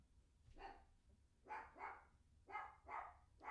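A dog barks indoors, one short bark followed by two pairs of quick barks, moderately distant and fairly quiet, with no talk.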